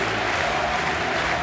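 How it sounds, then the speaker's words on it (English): Rugby crowd at a World Cup match in Bordeaux, a dense, steady roar of applause and cheering that fills the whole stadium without a break. "And listen to the crowd."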